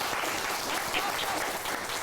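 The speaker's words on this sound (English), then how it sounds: "If I could get a round of applause for them, please." A short burst of steady audience applause for podcast guests at an evening talk event, many hands clapping evenly in a room.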